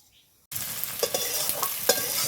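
Bay leaves and nigella seeds drop into hot frying oil, with a sudden loud sizzle starting after a short silence and crackling on with small pops, close up and without talk.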